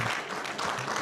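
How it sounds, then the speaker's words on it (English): A conference audience at a cybersecurity panel claps for a panelist, a brief, moderately loud burst of many hands applauding in a hall with no talk over it. "Let's give her a round of applause."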